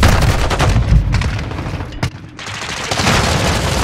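A decoy grenade thrown in Call of Duty: Modern Warfare 2 multiplayer, amid loud, dense gunfire and booming shots that pause briefly and then resume.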